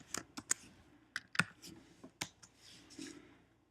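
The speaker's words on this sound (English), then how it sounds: "all you have to do is type in that particular verse" Close, crisp clicks from a computer keyboard as a scripture verse is typed, in an uneven run of keystrokes with one sharper clack near the middle and no talking.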